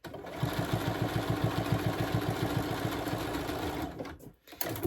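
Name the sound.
sewing machine stitching rag quilt seams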